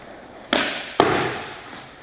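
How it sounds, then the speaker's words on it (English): A skateboard ollie: a sharp wooden pop of the tail, then a heavier landing thud about half a second later, both close and loud on an otherwise quiet background. "I'm gonna definitely pop a ollie."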